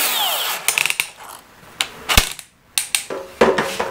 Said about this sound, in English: So we got a 3/8 bit here. We're gonna start with the DeWalt.